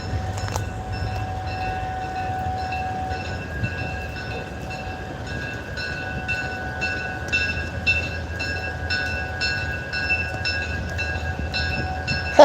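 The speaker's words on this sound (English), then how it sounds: "two-car train consist." A two-car train passing at a central station, a steady mid-distance rumble of rail noise with a faint sustained horn-like tone and light rhythmic wheel clicks running throughout.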